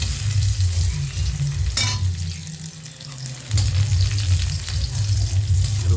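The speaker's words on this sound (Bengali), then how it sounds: "রসুনটাকে একটু লাল করে ভেজে নিয়ে" Crushed garlic fries in a pan for a kochu stem chutney, a close, continuous sizzle with a sharp scrape partway through and a low rumble beneath, with no voices.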